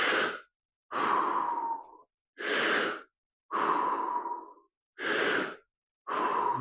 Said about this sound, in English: we're going to do 6 deep breaths in through the mouth, out through the mouth